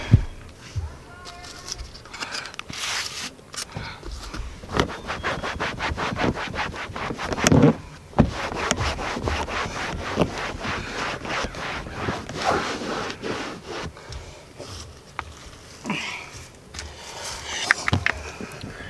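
Microfiber cloth rubbing leather and interior cleaner into hard plastic car interior trim, a steady stream of close scrubbing and swishing strokes that runs throughout with a few louder scrapes.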